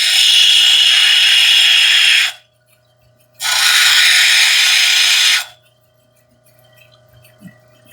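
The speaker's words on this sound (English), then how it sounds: "See how that wheel just grinds the crap out of everything." A grinding wheel cuts into stone in two loud, harsh bursts of about two seconds each, separated by a pause, then a faint hum.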